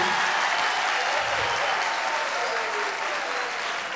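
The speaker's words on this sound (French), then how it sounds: "on applaudit très fort pour" A standing audience at a Kimbanguiste music concert in Brazzaville applauds loudly, a thick, continuous wash of many hands close by that barely eases over the span.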